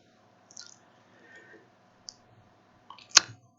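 A computer mouse right-click while opening the NVIDIA Control Panel on a gaming PC: a few faint, scattered clicks followed by one sharper, louder click near the end, close and otherwise quiet.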